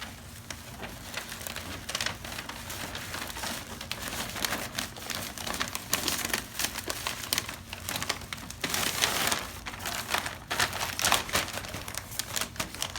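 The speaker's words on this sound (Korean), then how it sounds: "잡으셔서 요 비닐 안에다가 넣습니다." Plastic wrap crinkles continuously while a welcome package is packed for international students, a steady close rustling and crackling that swells and fades with the handling throughout.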